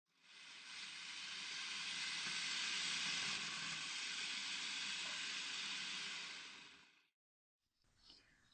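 An electric shredder grates radishes with a steady, loud motor whir and rasping noise for about seven seconds, then cuts off, followed by a short, faint clatter.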